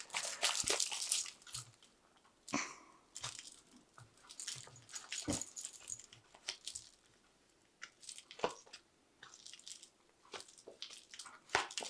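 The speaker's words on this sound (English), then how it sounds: "Shuffle this deck properly." A tarot deck being shuffled by hand gives bursts of crisp, papery riffling and slapping, close and irregular, with short pauses between handfuls.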